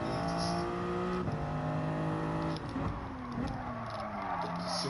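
In Gran Turismo 7, a Toyota Supra's engine revs hard and then drops in pitch with early upshifts as it is short-shifted around corners, a steady, loud in-car drone throughout.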